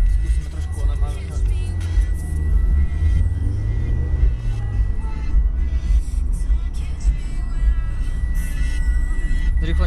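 A Mazda MX-5 drives and accelerates, its engine rumbling loud and near from inside the cabin, with the pitch rising through a rev and easing back, followed by continued steady road rumble.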